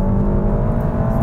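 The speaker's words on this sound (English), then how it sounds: "We're driving the Leon Cupra SC" A front-wheel-drive three-door Seat Leon Cupra SC hatchback revs hard on a track, its engine a loud, steady, close drone.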